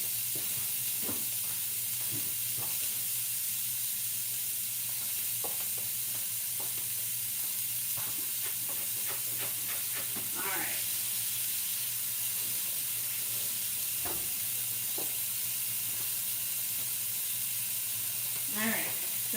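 A burger patty sears in a small pan with a constant close hiss and sizzle. Faint utensil taps and stirring sounds break through now and then.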